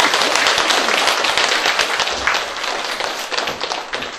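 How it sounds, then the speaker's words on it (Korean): An audience at a Buddhist book-launch dharma gathering breaks into dense, loud applause, many hands clapping steadily and continuously up close. "박수 한번 드리세요"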